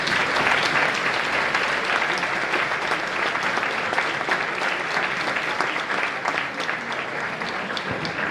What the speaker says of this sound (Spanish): Aplauso para Landecha Folclor.